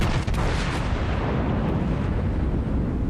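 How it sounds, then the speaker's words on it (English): A Fuso battleship's main guns firing a salvo in a naval video game, a heavy booming blast at the start that rolls into a long, dense rumbling roar, loud and without speech. "One salvo, one ship destroyed."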